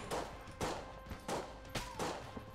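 Rapid bursts of gunfire from a gun in the video game Enter the Gungeon, four or five sharp volleys in an even rhythm, loud and close with no talking.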